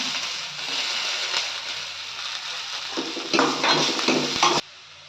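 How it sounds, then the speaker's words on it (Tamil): Urad dal frying in hot oil in a pan, giving a steady close sizzle and crackle throughout, with louder bursts of stirring or spattering near the end before it cuts off. "இப்போ இதை நல்லா ஃப்ரை பண்ணிக்கலாம். நம்ம எடுத்து வச்ச உளுத்தம் பருப்பை இந்த ஸ்டேஜில் ஆட் பண்ணிக்கலாம்."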